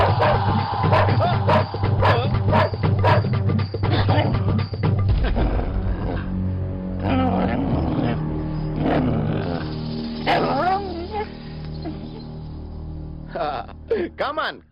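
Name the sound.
dog barking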